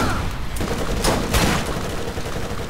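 Rapid automatic gunfire in the Borderlands video game, a dense continuous burst of shots with louder cracks near the middle, filling the whole stretch with no talk over it.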